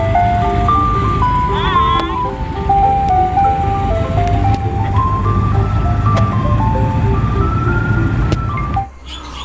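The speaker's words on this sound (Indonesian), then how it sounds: "Di sini ada mobil es krim." A toy ice cream truck plays a loud, steady electronic jingle of stepped melody notes, continuous for about nine seconds before cutting off near the end, with a child-directed voice speaking over it.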